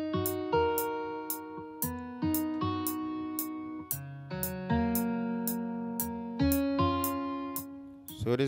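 Two layered steel string guitar sounds, one hard-edged, pick out a bright melody for a beat, with evenly plucked notes and chords ringing alone, moderately quiet and close.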